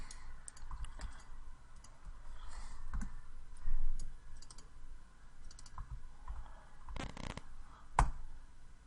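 Mouse clicks during 3D character modeling on a computer, a scattering of sharp, close clicks at irregular intervals, including a few quick double clicks, over a quiet room background.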